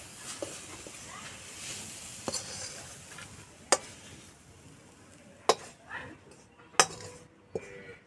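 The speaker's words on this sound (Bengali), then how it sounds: "এবার আমি ঢেলে নেব।" Cooked dry filling for banana puli pithe is scraped out of a wok, with a few sharp metallic clinks and scrapes over a soft, steady kitchen background.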